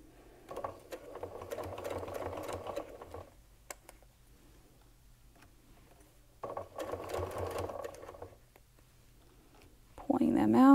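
Sewing machine stitching curved quilt pieces, two bursts of rapid close whirring about three seconds each separated by a quiet pause, with a brief louder rustle at the end.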